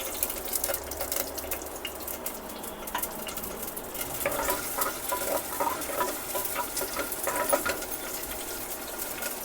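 Onion frying in oil for a bangda (mackerel) tikhla, a close, soft crackling sizzle with scraping stirs throughout, no talk.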